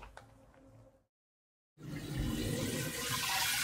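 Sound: water pouring into a barrel

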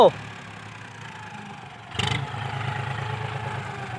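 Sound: tractor engine arriving

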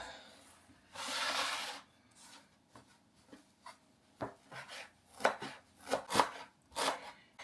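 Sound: chopping fresh dill on a board

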